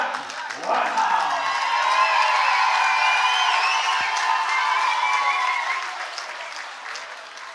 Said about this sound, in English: please make some noise for your runner-up, Jack